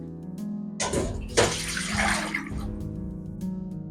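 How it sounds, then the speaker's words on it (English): Water bubbling and rushing in a pot, a steady churning hiss with a low hum underneath, close by. "the water is boiling right now"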